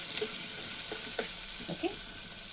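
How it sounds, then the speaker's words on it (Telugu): Finely chopped onions and green chillies fry in a pan, a quiet steady sizzle with a few light stirring scrapes. "ఇప్పుడైతే ఉల్లిపాయ, పచ్చిమిర్చి ముక్కలు సన్నగా తరుముకున్నాం కదా, అవి వేసేసుకుందామండి. అవి కొంచెం వేగాలి."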